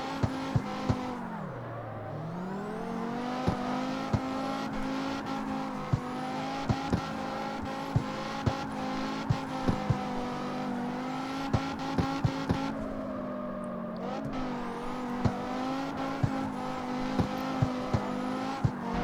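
An engine-swapped car slides at night on its tires, its engine holding a steady loud drone with a brief dip in pitch near the start, while scattered sharp clicks and squeaks come through.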